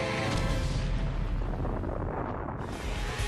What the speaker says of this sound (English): Raiden, in a desperate attempt to stop Onaga, conjures up a blast powerful enough to wipe out everything within the surrounding area. The explosion kills him, Shang Tsung,